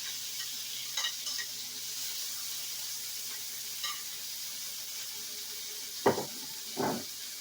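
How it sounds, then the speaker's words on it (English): Cut-up cooked peppers sizzle quietly in a pan for Jamaican chicken rasta pasta, a faint steady hiss broken by a few soft clinks and stirring knocks toward the end. "Then I'm gonna throw my peppers that I cooked."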